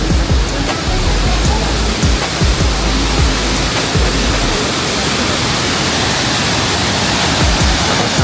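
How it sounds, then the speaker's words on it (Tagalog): Shifen waterfall on Taiwan's northern coast, a broad, loud and continuous roar of falling water heard close and steady, with faint scattered background sounds. "Sabi pa nila Little Niagara Falls daw. Niagara Falls Taiwan version."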